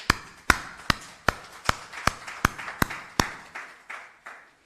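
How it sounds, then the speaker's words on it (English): Slow, deliberate claps ring out in a hall at a youth startup bootcamp inaugural session, about nine sharp, evenly spaced hits with a reverberant tail, sounding like a single person or a small group clapping rather than a full audience. "can we give a big applause to them?"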